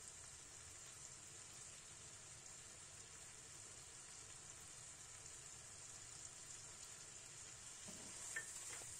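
Prawns frying in a pan with chilli and turmeric powder, a steady faint hiss and sizzle with soft stirring scrapes, growing slightly louder near the end.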